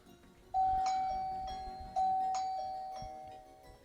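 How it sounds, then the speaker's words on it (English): A two-tone electronic doorbell chime from a Xiaomi IMILab wireless video doorbell rings twice, each bright ding-dong decaying slowly, with quiet room hum in between. "now to test the functionality of the doorbell"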